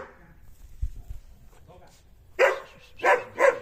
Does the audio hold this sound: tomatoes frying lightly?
no